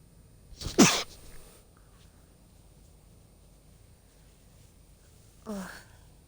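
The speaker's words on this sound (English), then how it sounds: "I have to sneeze." A single sharp, close sneeze from a person playing a video game, followed several seconds later by a softer, shorter breathy exhale, with quiet room tone in between.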